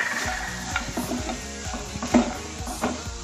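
Cashews sautéing in ghee while being stirred give a close, continuous sizzle with repeated scraping strokes of a spoon against the pan in an uneven rhythm, and no one speaks.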